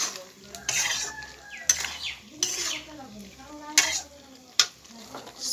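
Spices being stirred in a frying pan with metal utensil scrapes and clinks over a soft sizzle, the stirring strokes irregular and close, with faint background voices and bird calls.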